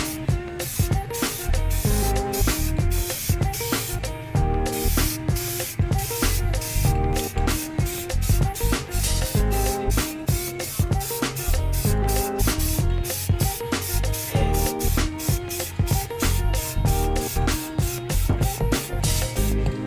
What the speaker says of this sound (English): we just applied the last coat of the Plasti Dip to the R's